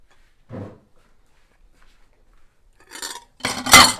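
A spoon and a plate set down on a table while breakfast is cleared by someone without hands. There is a short soft clink early, then a pause, then louder clattering knocks of crockery near the end, close and distinct.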